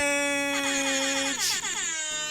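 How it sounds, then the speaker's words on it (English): A loud, blaring air horn blast rings out alone, its pitch bending and warbling as it sustains. "Yes, I did have my air horn ready."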